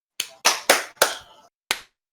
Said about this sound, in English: Can everyone give a round of applause?